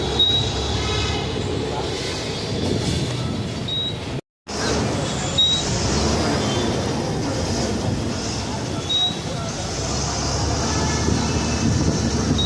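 A metro train rumbles and rattles past near Arumbakkam metro station in Chennai, with metallic squeals and a steady roar. A voice talks over it, and the sound cuts out briefly partway through.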